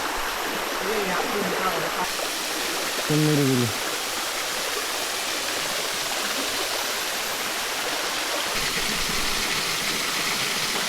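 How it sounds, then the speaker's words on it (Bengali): A small waterfall stream rushes in a steady, close, broadband wash of flowing water, with a brief tonal sound near the start cutting through. "এখানে একটা ছোটো ঝর্ণা দেখা যাচ্ছে"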